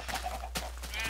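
Sheep bleating in a farming video game, a brief wavering bleat over a steady background hum, fairly quiet.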